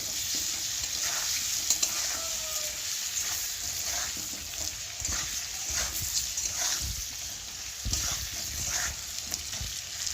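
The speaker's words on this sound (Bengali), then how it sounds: "আর এখন হলুদ নুন দেওয়ার পরে আর ভেজে রাখা বেগুনটা আমি দিয়ে দেবো। দিয়ে একটু ভালো করে কষিয়ে নেব।" Fried eggplant with turmeric and salt stir-fried in a pan, a steady bright sizzle running throughout with repeated scraping stirs and occasional clinks, close and fairly loud with no talking.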